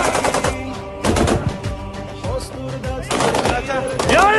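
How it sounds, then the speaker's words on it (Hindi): Chechen fighters fire machine guns in continuous bursts during battle in the Russia-Ukraine war at Mariupol. The loud, close rattling comes in several long volleys with brief gaps, and voices and other noise sound underneath. "मशीन गन से लगातार देखिए कैसे एक के बाद ये फायरिंग करते हुए चेचन लड़ाके"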